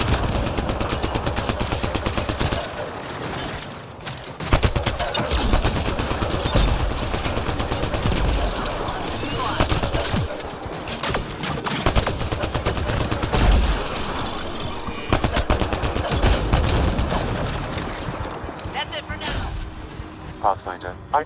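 Sustained gunfire in the video game Mass Effect: Andromeda, loud rapid automatic bursts and shots firing almost continuously, layered with mechanical clatter throughout.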